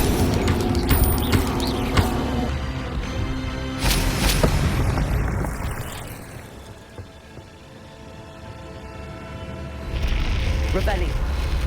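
An Incendio fire spell is cast in Hogwarts Legacy, giving loud, rumbling fiery blasts near the start and around the middle that fade to a low hum before another surge of noise near the end.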